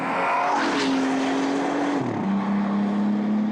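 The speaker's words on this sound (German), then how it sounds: "Es wird kurz vermeintlich die Zündung weggenommen, es proppelt kurz." A Bentley Continental Supersports engine drones steadily, then its pitch drops sharply in an upshift partway through and settles at a lower, even tone, with no clear pop standing out.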